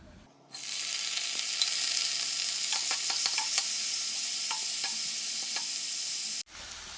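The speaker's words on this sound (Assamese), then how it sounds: "তাত মিডিয়াম সাইজৰ 2টা পিয়াজ ধুনীয়াকৈ ফ্ৰাই কৰি ল'ম।" Two medium onions fry in oil in a pan for chicken korma, a loud, even hiss that starts suddenly, with light scrapes and taps of a spoon in the middle, then stops abruptly.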